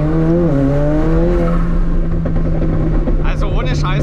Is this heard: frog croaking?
no